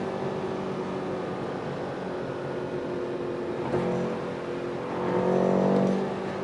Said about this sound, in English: in the M mode you can definitely feel that the engine is awake